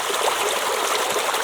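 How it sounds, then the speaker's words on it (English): Shallow water flows over rocks in a stream, a constant close splashing hiss that stays even throughout with no voices. "If you've got a long, wide area, more water can flow through."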